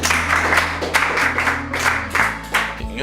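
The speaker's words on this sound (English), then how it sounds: "Clap for yourself again" Students in an English-speaking class clap for themselves, a steady burst of hand claps over a sustained low hum, moderately loud throughout.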